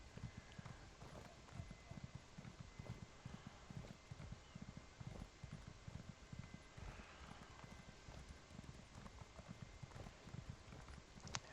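A horse's hooves clip-clop steadily at a walking pace in the video game Elder Scrolls Online, an even, close, quiet rhythm that continues throughout.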